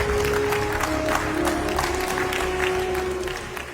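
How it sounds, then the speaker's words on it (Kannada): An audience applauds loudly at the Hasanamba Film Festival 2025 during a Best Actress award moment. The dense clapping holds steady over a sustained tone, then tapers slightly at the end. "ಜೋರಾದ ಚಪ್ಪಾಳೆ ಸ್ನೇಹಿತರೆ"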